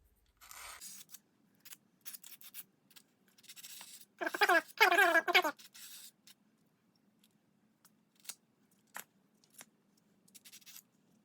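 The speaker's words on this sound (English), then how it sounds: "We're just scraping this silicone off the front here." Silicone sealant being scraped off the front of an Audi/VW 2.0T engine: short, scratchy scraping strokes come in intermittent bursts, one louder run in the middle, over a quiet background.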